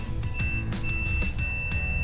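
A multimeter's continuity buzzer sounds in a steady high tone while a washing machine fuse is tested, broken by short clicks and taps from the probes.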